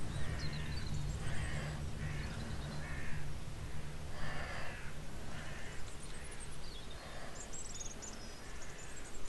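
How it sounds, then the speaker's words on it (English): Crows caw repeatedly in the video game Sir, You Are Being Hunted, a series of harsh calls spaced about a second apart over a steady low ambient rumble, moderately distant. "It's just birds, Rob."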